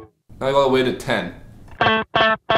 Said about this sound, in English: Now it's basically just a slapback.